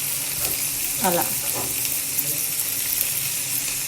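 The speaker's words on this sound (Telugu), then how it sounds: "ఇప్పుడు ఆలూస్ వేసేసి డీప్ ఫ్రై చేద్దాం." Potatoes deep frying in hot oil give a steady, dense sizzle that fills the whole stretch at close range, with a brief voice murmuring over it.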